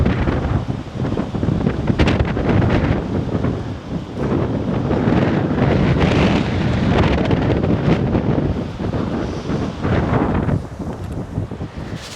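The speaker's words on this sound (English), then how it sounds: "But it's so windy." Strong wind buffets a rooftop during a roof inspection, a loud continuous roar of gusts blasting the microphone for the whole stretch, with no voices heard.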